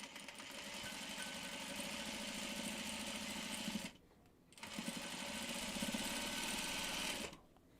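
A sewing machine joins quilt block pieces for a Delectable Mountains block in two steady, close runs of fast mechanical whirring, broken by a short pause between them.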